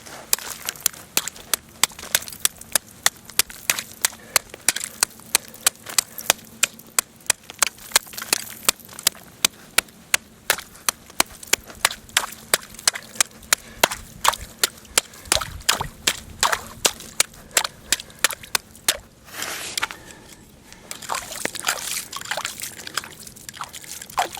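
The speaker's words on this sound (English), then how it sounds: "first priority is going to be to try to get through this ice" Sharp repeated chopping strikes of a homemade tool fashioned from an old file hacking a hole through ice, dozens of close, crisp impacts in a steady rhythm, then splashing and slushy water as the ice breaks through near the end.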